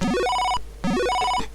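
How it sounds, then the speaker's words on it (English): A telephone rings twice in the Circuit's Edge video game, each electronic ring a rising, warbling bell tone with a short pause between, loud and alone with no talk. "Oh, there goes the phone."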